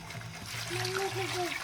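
Water pours and splashes steadily into a container, a close, continuous gush with a voice audible faintly underneath.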